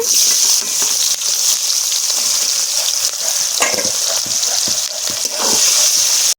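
Chopped onion, cinnamon and cloves hit hot oil as tempering for a village-style mutton curry, giving a loud, continuous close sizzle with stirring scrapes throughout and no talking.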